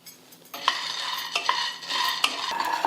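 Peanuts are dry-roasted in a pan while being stirred, giving a close scraping, rattling sound with repeated sharp strokes and a faint sizzle beneath, no voices.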